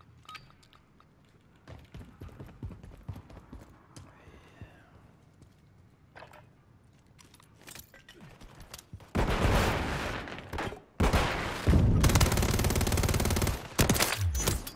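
Weapon gunfire in Call of Duty Modern Warfare III multiplayer, starting with scattered shots and footsteps, then loud sustained bursts of automatic fire in the second half, with no talking.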